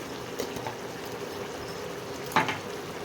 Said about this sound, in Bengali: ঝোলটা ফুটতে আরম্ভ করেছে